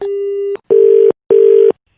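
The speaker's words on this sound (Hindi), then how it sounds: "हेलो, शायद फोन कट गया था ना भाई साहब" A telephone line goes dead after a call is cut: one steady tone, then two evenly spaced beeps of the same pitch, clean and close with nothing else audible.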